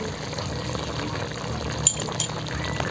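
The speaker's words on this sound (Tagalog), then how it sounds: "Okay, buhos na ito." Liquid pours steadily into a pan of pork belly humba as it cooks, giving a continuous close wash of sound broken by a couple of faint clinks.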